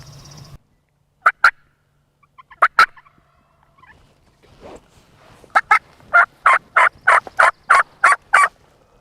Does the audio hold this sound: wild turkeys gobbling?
yes